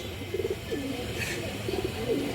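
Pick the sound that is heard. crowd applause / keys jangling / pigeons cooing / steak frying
pigeons cooing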